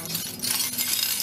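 Glass beads and recycled seashells for wire crochet jewellery clink and rattle together as they are handled, giving a brief, close, bright jangle with no talking.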